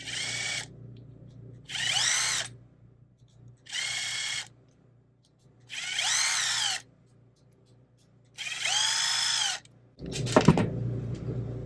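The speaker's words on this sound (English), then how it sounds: "we'll go ahead and take our screws out of our center diff. I mean our front diff." A power drill backs screws out of the front differential of an MT12 RC car in five distinct whirring bursts with short pauses between them, close and clear, followed by a small metallic clatter.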